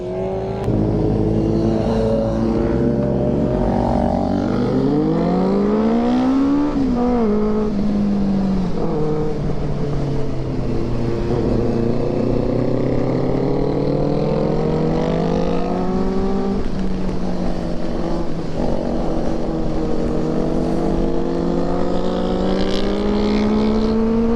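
Two Kawasaki Z900 superbikes accelerating hard on a ride in Meghalaya, engines revving loud and close with rising, sweeping pitch and continuous exhaust roar throughout, no talking.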